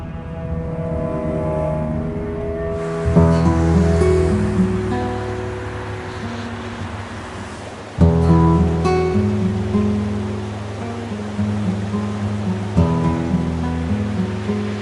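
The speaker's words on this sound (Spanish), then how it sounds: "Este es el río Lagunilla que baja desde el volcán del Ruiz" The Lagunilla river rushes down from the Ruiz volcano in a continuous, steady roar of flowing water, with sustained background music playing over it and swelling in places.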